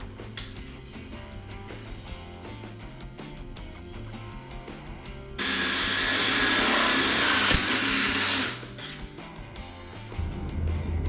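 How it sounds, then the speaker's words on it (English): A power drill bores through the aluminum sidewalls of solar panels, a loud steady whine of about three seconds that rises over a quieter background of rhythmic music and ends abruptly. "I'm going to do is drill through these 2 sidewalls here and up there"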